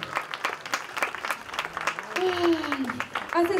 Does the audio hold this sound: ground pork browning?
no